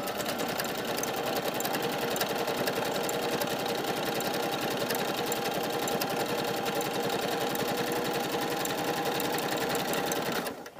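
A sewing machine stitches a manual buttonhole on a jacket, its rapid mechanical whirring and needle chatter running steadily and close for about ten seconds before stopping.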